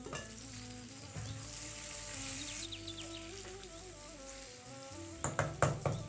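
Chicken fries with spices in a single pot while being stirred, giving a steady, close hiss and sizzle. A few clattering scrapes of stirring come near the end.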